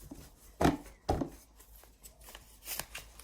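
Soft riffling and shuffling of a deck of oracle cards, a few distinct flicks close up in a quiet room.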